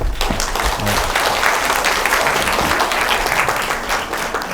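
Audience applause rising to greet a professor about to lecture on mental illness at Daegu Library, a dense, steady wash of clapping from a large indoor crowd that holds loud throughout with no talking.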